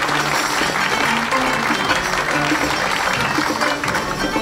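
An audience applauds steadily and loudly at a hall gathering with saz players, the dense clapping held at an even level throughout with no one talking over it.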